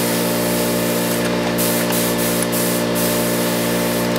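A 4-thread overlock sewing machine running steadily, a loud continuous mechanical whir with a dense buzzing hum, close by and uninterrupted, with no one talking.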